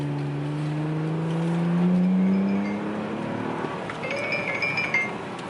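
A 2018 Toyota Camry XSE with its muffler deleted revs up with a deep, rising engine drone, peaking loudly, then easing off into a rougher exhaust grumble as the car moves along a straight road.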